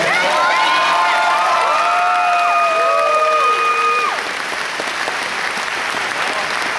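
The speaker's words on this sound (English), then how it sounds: "big round of applause." A graduation audience applauds and cheers loudly after a valedictory speech, with high whistles or shouts rising over steady clapping for several seconds before the noise thins toward the end.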